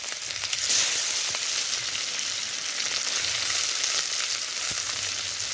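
Onion and chopped green chili fry in a kadai for a puti fish curry, giving a soft, continuous sizzle with a few faint crackles and scrapes and no talking.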